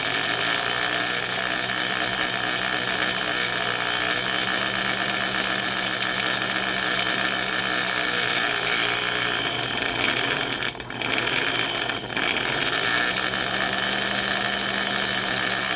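An antique Ajax toy electric motor runs steadily at around 3 volts, giving a continuous whirring drone with two brief dips in speed near the end, heard alone without speech.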